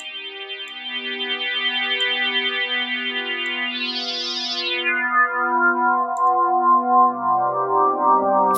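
A sustained buzzy synthesizer tone from SynthMaster 2 with rich harmonics, its brightness sweeping as a steep 24 dB filter closes and opens, the pitch stepping down near the end.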